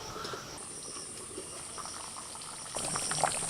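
Mutton curry with fried potatoes bubbling in a pot: a faint, steady simmering hiss with soft bubbling that swells slightly toward the end, and no voices.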